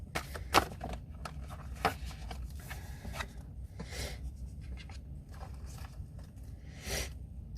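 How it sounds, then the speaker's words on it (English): A tarot card deck being shuffled by hand, a run of soft papery riffles and sharper slaps at irregular intervals, close by and fairly quiet, with no speech. "Last shuffle."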